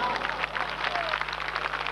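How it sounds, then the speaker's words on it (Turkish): Outdoor crowd applauding at a village highland festival in Dikili, Almus, a steady wash of clapping with voices mixed in under a low hum. "Aydın elini daha çok alkışlıyor."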